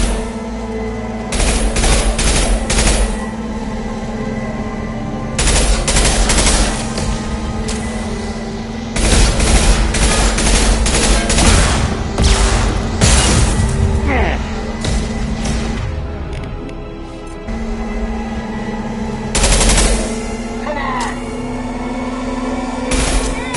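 Sustained gunfire with incendiary ammo in Mass Effect Legendary: loud, close bursts of automatic fire come in repeated volleys with short gaps, over a steady low hum, while voices speak between and under the shooting.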